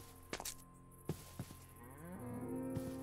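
Cows mooing in the Minecraft video game: one long, low moo swells and holds near the end, after a few scattered clicks from gameplay, with a quiet steady game background and no talking.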